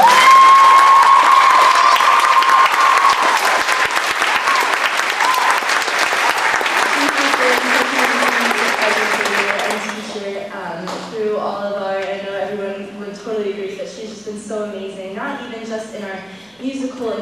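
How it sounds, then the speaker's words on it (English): Audience applause fills a spring choral concert hall, loud and steady for about ten seconds, then fades as a voice begins speaking over the last of the clapping. "I would just like to have everyone give a round of applause to Mrs. Kirkpatrick for all of her."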